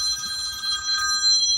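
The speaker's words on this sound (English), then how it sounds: "so after the interruption from the phone" A mobile phone rings in a hobby workshop during a build of a Cambrian Funfighter 42-inch Me109 model aircraft. The steady electronic ringtone plays close and clear for the whole moment, with no talking over it.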